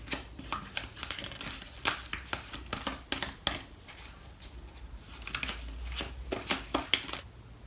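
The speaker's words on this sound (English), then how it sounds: "I'm going to pull out a card from the Fairy Tarot deck." Cards from a Fairy Tarot deck are shuffled and drawn, giving close, crisp riffling and flicking with papery snaps in uneven bursts and no talking.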